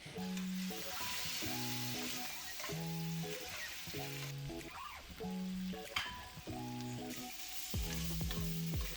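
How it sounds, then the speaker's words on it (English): Cooked cauliflower stalks fry in butter in a pan, giving a soft, steady sizzle with occasional stirring scrapes, while a gentle repeating melodic background tone plays underneath. "So just place them in a pan with some butter and season with some salt if needed."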